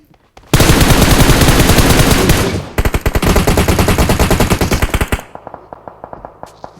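Automatic gunfire in the mobile battle royale game PUBG Mobile rattles out in two long, loud, rapid bursts, then trails off into a few spaced single shots.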